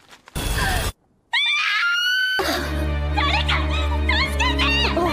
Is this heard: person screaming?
yes